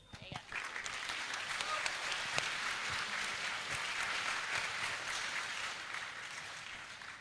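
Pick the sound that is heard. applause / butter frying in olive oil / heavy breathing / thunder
applause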